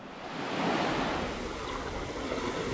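Waves wash onto the shore at Jangho beach, a continuous, soft, rushing surf with a gentle swell in loudness, heard alone without voices.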